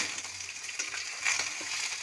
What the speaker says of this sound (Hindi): इसको अच्छे से हम फ्राई होने देते हैं 5 मिनट तक।